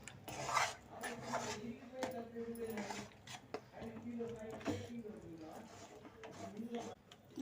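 Spoon scraping and rubbing against a pan while halwa is stirred with ghee, a steady rasping rhythm of repeated strokes close by, with someone talking over it throughout.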